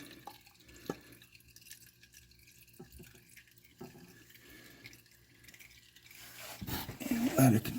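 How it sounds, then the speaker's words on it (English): Transmission fluid drips and drains from a Dodge Grand Caravan into a pan: sparse, faint drops fall against a quiet background, then a louder burst of noise closes the clip. "let it continue to drip and drain"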